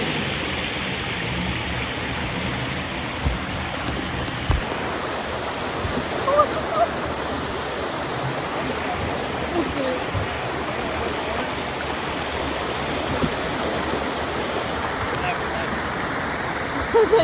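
Fast-flowing river stream near a waterfall on a hill trek, a loud steady broadband rush of water that fills the whole stretch, with a few faint splashes and knocks on top.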